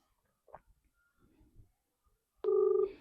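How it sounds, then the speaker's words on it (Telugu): A phone call's ringback tone sounds near the end, a loud steady electronic ring starting abruptly after a near-silent stretch with faint background noise. "ఫోన్ రింగ్ అవుతుంది."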